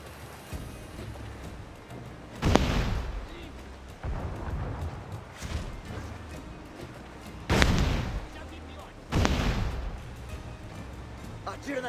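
Cannon blasts of chain shot fired during a naval battle in Assassin's Creed IV: Black Flag, three or four heavy booming bursts spaced a few seconds apart over a rumbling battle din with faint voices.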